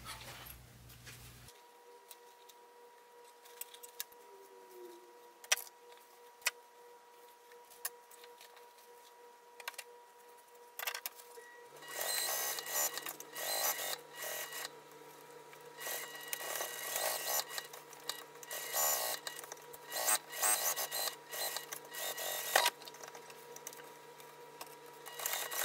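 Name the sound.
sewing machine stitching around a hip bag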